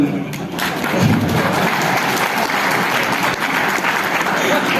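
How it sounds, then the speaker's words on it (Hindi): Steady audience applause in a lecture hall during a class session, dense continuous clapping from many hands sustained for the full few seconds, with some voices faintly mixed in. "थोड़ा ताली पड़ दो"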